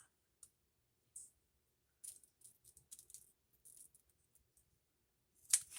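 Scissors snipping through a thin book page, a few quiet crisp cuts and small clicks scattered over several seconds, ending in a sharper snip.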